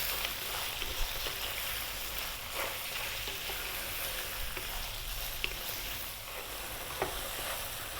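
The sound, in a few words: garlic frying in a pot over medium heat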